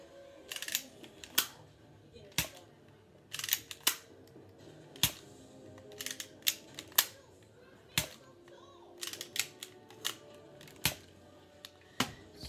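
Nerf Sharpfire Star Wars toy blaster test-fired indoors, giving sharp plastic snapping clicks and pops scattered irregularly over the span, some in quick pairs and clusters, close and fairly loud over a quiet background.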